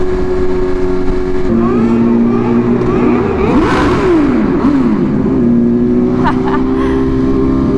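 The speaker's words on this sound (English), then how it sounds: "Heard people revving, why not?" Motorcycle engines rev and roar loudly close by at a women's group riding event, pitch rising and falling in surges over a steady idle drone.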